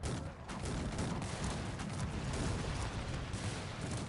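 Battle sounds from the strategy video game Cossacks 3: dense gunfire and artillery from massed troops and a multi-barrel gun, a steady low crackling roar at moderate, slightly distant level without speech.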